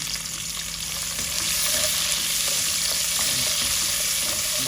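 Onions frying in hot oil for a Bengali chicken bhuna, a continuous dense sizzle at close range that swells slightly partway through, with no voices.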